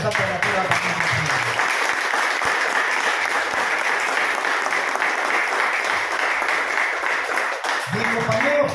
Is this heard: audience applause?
yes